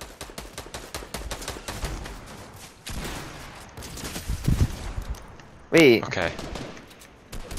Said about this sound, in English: Bro, what is bro shooting at?